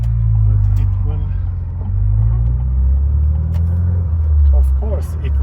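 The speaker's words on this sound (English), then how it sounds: "will just do a couple of pulls so you can hear the sound" 2011 Saab 9-5 Turbo4 with a billet turbo accelerating in hard pulls, a deep, loud engine rumble rising and falling up close, with a voice speaking briefly over it.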